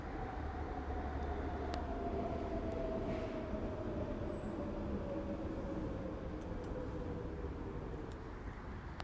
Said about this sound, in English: I can't stop the train sounds.